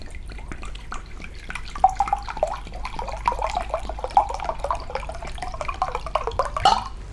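Spring water is poured into a cup in a kitchen, a steady trickling, gurgling stream with small splashes and drips that rise slightly as the cup fills.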